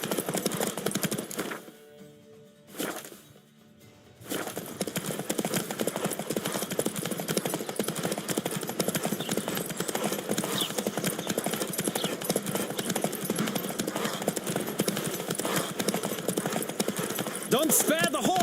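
Horse hooves clop rapidly and steadily over a busy background in The Witcher 3: Wild Hunt, with a brief drop in sound near the start before the galloping resumes.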